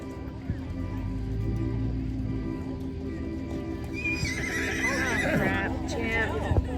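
Missouri Fox Trotting horses clip-clop along at a walk in a show ring while one neighs in a rising whinny near the end; a voice speaks over a low background hum.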